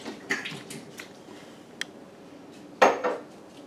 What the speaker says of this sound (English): I have a strainer.